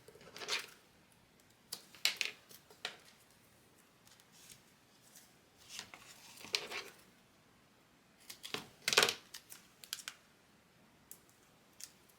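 Scissors snip through foam tape while card layers are trimmed, a series of short, crisp cuts spaced irregularly with quiet pauses between, close and fairly soft.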